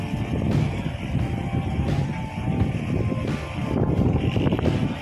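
Steady outdoor wind rumbling and buffeting the microphone among mango trees in Pampanga, Philippines, continuous and fairly loud, with no one speaking.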